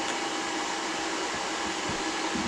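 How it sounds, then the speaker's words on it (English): A small Jamberry nail dryer runs with a constant, fairly loud airy whir and fan hiss, steady and unbroken throughout, with no voices. "I had my cheater Jamberry nail dryer going."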